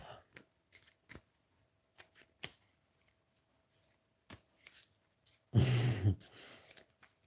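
Tarot cards are shuffled with a loud, dense riffling burst near the end, preceded by scattered light taps and flicks of cards being handled close by; no one speaks.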